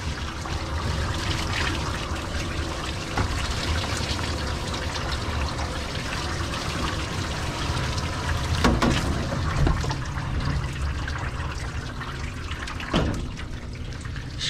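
Running water rinsing a dog's face during grooming, a steady close splash and trickle from a spray with a few sharper splatters, continuous throughout and without talk.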